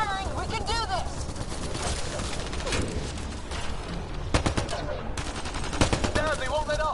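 Bursts of rapid automatic gunfire from the video game Mass Effect: Andromeda rattle over a dense game mix, with shouting voices heard between and under the shots.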